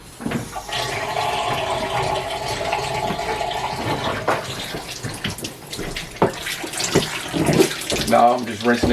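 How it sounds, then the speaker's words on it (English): Tap water runs steadily and splashes over an emulsion-coated screen for screen printing, a loud rushing flow with splattering bursts near the end. "Now I'm just rinsing it with water."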